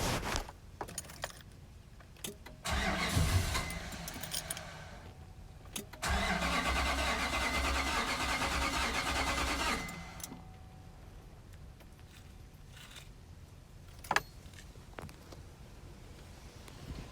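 A 2005 Nissan Titan cranks with a full battery but won't start, giving two bursts of starter whirring and churning, the second several seconds long, with clicks and key jangles around them. The engine falls quiet after each attempt, and no voices are heard.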